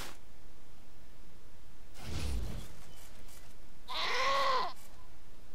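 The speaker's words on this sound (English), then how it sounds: "goats!" Goats in a video game bleat once at close range, a single wavering cry near the end, following a brief whooshing burst.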